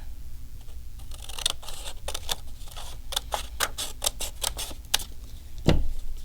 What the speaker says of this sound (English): cut this in half